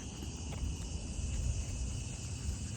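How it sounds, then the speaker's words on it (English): Evening peepers call in a steady, high-pitched chorus at sunset along a walking path, an unbroken shrill trilling that fills the background without voices. "We slowed down so we could hear the evening peepers,"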